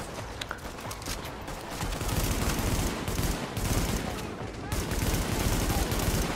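Rapid gunfire from a hard-recoiling weapon in Tom Clancy's The Division, dense and continuous bursts through most of the stretch, with faint talk underneath.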